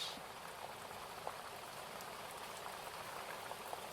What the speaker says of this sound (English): your ears listen for a little longer to the rain